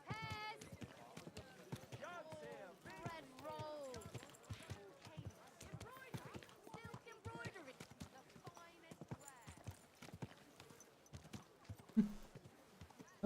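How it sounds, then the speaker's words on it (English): Galloping horse hooves in the medieval video game Kingdom Come: Deliverance 2 drum in a quick, steady clip-clop rhythm throughout, with someone talking over them. "Oh, horsey."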